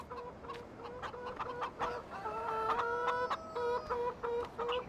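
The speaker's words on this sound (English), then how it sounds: "Chicken." Chickens cluck in a farm yard in the video game Farming Simulator 2015. Several overlapping, repeated clucks come with a couple of drawn-out squawks, moderately loud and close, with no voices.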